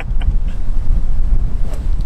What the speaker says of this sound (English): Tough wind. A lot of wind.